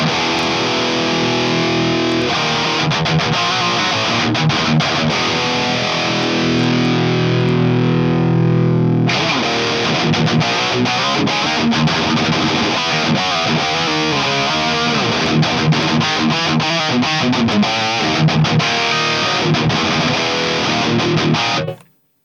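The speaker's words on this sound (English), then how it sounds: "I could now go ahead and engage the boost over here, maybe set this up like so" Loud, saturated electric guitar through an Orange Pedal Baby 100 power amp with boost engaged, dense sustained chords ringing alone, then a busier gritty riff that stops abruptly at the end.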